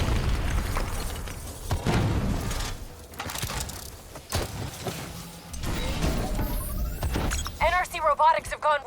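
Rogue robots detonating in Call of Duty Black Ops III gameplay, with loud booms and crashing blasts mixed with mechanical clatter and shrill squeals, and voices talking over the action.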